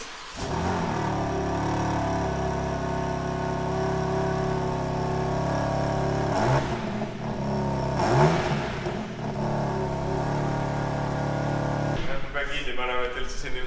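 BMW M3 Competition engine started up and revved, a steady idle hum broken by rising revs around the middle and a sharper burst near the end, close by with people talking.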